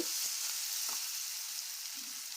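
Eggplant and fresh peas fry in oil in a pan, a steady close sizzle with a few soft stirring scrapes and no voices.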